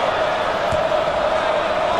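Crowd in a basketball arena during a simulated college tournament game between Georgetown and Colorado, a dense, loud, steady roar that stays constant throughout, with a brief thump partway through.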